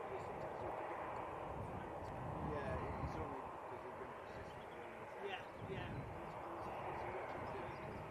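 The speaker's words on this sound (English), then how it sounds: "And this Loganair is coming in from the Isle of Man." Loganair plane arriving from the Isle of Man at Manchester Airport, a faint, steady engine drone in the distance with a voice talking over it.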